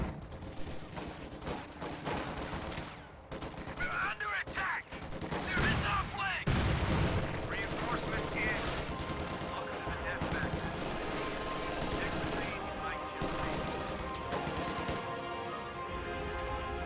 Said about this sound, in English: Katyusha firing over here on the right side. Trying to soften up these infantry.